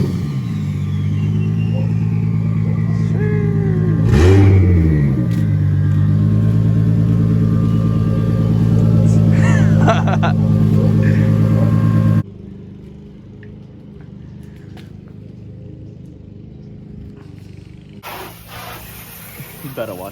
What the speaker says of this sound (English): I think I hear my boy Chada pulling up